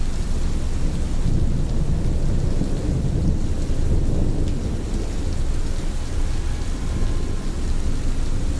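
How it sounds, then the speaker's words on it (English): Heavy steady rain pours down with a deep, continuous rumble of thunder rolling beneath it, loud and enveloping, with no voices. "Suresh faded back into the rain, vanishing as lightning cracked across the sky"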